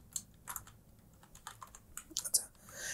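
Quick, uneven keystrokes on a computer keyboard while JavaScript code is typed, a short burst of close clicks that clusters toward the end.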